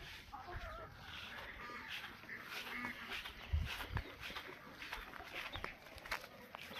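Two young roosters in a backyard garden flock, clucking and calling intermittently at moderate distance over a steady outdoor background, with a couple of brief louder bursts midway.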